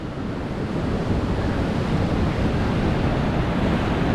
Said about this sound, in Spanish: El mar parece muy bravo.